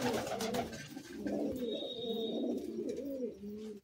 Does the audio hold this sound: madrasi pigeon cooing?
yes